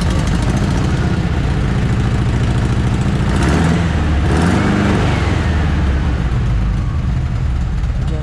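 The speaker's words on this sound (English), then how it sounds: "Back here you can hear the engine." A Porsche 356 Speedster replica's engine idles steadily and loudly up close, with a brief rise in revs partway through before settling back to a low rumble.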